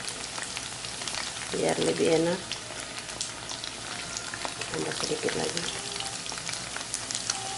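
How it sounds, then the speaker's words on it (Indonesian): Hot cooking oil hits raw dabu-dabu chili relish with a loud burst of sizzling and crackling, fading into a softer fry, then a second smaller sizzle; a voice speaks briefly over it. "Saya mau ambil sedikit minyak goreng panas, biar lebih enak."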